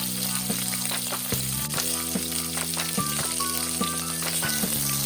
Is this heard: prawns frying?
yes